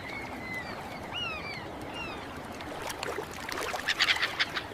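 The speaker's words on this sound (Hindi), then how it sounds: "वहां पर बहुत सारे जलीय पक्षी थे।" Ducks quack in a loose, scattered series at middle distance, with faint calls from other birds and a soft outdoor background.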